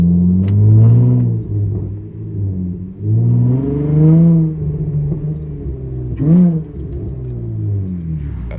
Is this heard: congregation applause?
no